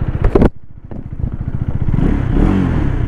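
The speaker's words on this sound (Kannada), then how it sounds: "ಇಂಜಿನ್ ಸೌಂಡ್ ಈ ಥರ ಕೇಳಿಸುತ್ತೆ" A 2025 KTM Duke 250 motorcycle engine starts with a brief clatter, then settles into a steady, throbbing idle that rises slightly, close and loud.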